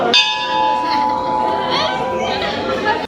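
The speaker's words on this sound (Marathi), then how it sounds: "मध्येच घंटी वाजवायची" A bright metal temple bell at the Shri Swami Samarth temple in Akkalkot rings out clearly and close, its tone lingering and ringing on while murmuring voices and chatter carry in the background.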